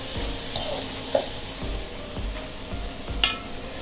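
Shrimp stir-fried in a pan, a soft sizzle under repeated scraping strokes of a spatula at a steady rhythm, with a couple of sharper metallic knocks, close and without speech.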